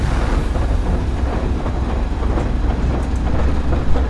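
A moving train in the video game Rust: a continuous loud low rumble with rolling rail noise and faint clatter, steady throughout with no talking.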